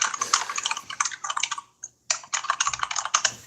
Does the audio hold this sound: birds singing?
no